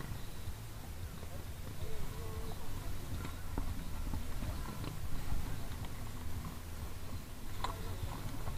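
Steady clip-clop of horse hooves on pavement at a walking pace, moderately close, over a low engine-like hum and faint voices.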